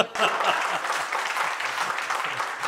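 An audience at a comic poetry gathering claps steadily for a few seconds, dense and continuous, with a voice briefly audible through it.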